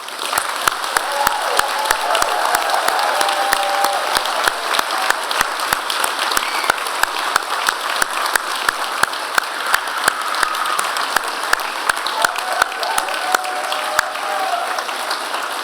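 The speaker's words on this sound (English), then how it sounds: "join me in a huge round of applause for our amazing graduating class" Sustained applause from a large convocation audience for the graduating class, dense clapping at a steady level throughout, with a few scattered cheers mixed in.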